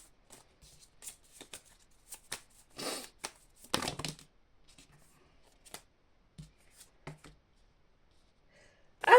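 Tarot cards being shuffled and handled during a reading, with soft papery riffles and flicks in scattered bursts, close and quiet with pauses between.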